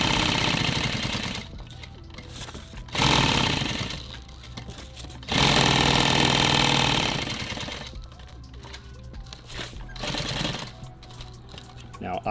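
A sewing machine stitches Cordura nylon for tactical gear, running in bursts of fast, rhythmic mechanical chatter that start and stop across the span, close and fairly loud.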